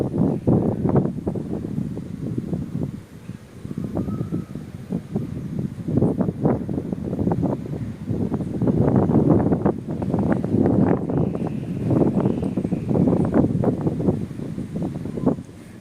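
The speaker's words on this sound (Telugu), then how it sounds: "మీరు అబ్జర్వ్ చేస్తే గాలి సౌండ్ కూడా వస్తుంది" Steady roaring wind at night with repeated gusts buffeting the microphone, trees swaying, a dense rumbling rush that swells and eases throughout.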